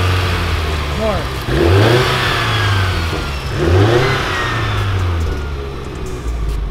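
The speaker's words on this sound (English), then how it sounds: "Rev it up." Mitsubishi Evo X engine revving in short bursts with rising turbo spool whine, close and loud, a couple of swells separated by idle rumble, with a voice talking over it.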